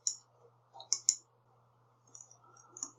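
Computer mouse clicks at a desk, several sharp close taps, with two quick clicks near the middle and a few lighter ones later, over a quiet steady electrical hum.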